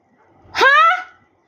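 A Siberian husky lets out one short, sharp bark, close and loud, with quiet before and after.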